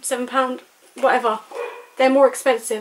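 A pet dog barks in repeated bow-wow bursts close by, interrupting someone talking about shop prices; the barks and her voice overlap and alternate across the moment.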